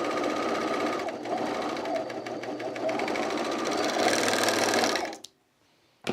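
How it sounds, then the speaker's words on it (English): Serger sewing machine stitching through thick fabric, a loud close rapid mechanical whirr that runs steadily for about five seconds, then stops abruptly with a brief click at the end. "The serger just really is fine with thicknesses"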